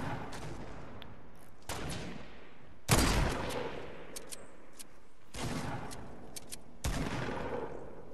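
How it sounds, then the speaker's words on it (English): Sniper rifle shots in Fortnite ring out as several sharp, loud cracks a second or two apart, each trailing into a brief echo over steady background game noise. "I'm gonna try sniping those people."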